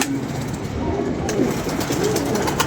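Pigeons, including a blue-tailed bird kept for sale, give low, rolling coos, repeated several times at close range over a steady background hiss.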